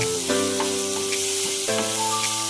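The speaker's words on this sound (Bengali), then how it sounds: "এ দুটো দিয়ে এ দুটো দিয়েও আমি একটুখানি কষে নেব" Ginger paste and tomato sizzle and fry steadily in a hot kadai, with a few soft stirring scrapes breaking the crackle.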